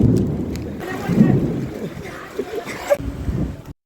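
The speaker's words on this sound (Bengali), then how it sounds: "শুনতেই পাচ্ছ যে কি হারে মেঘ ডাকছে" Low thunder rumbles through a rainstorm as a group nears a station, broad and continuous with wind buffeting the microphone, a few louder swells in the middle and near the end, and people talking over it.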